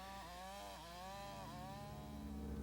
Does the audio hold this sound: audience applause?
no